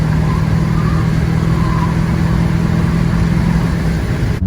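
A Duramax diesel pickup engine with a new turbo runs hard and steady, a loud sustained drone with a constant low hum that holds level throughout before easing slightly at the very end.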